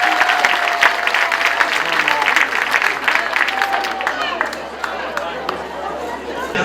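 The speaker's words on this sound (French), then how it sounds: "on peut applaudir les enfants de première et deuxième maternelle ainsi que les parents" Audience applause for first- and second-year nursery children and their parents at a school New Year dinner show, with broad clapping and crowd chatter filling the room steadily throughout, with voices mixed in.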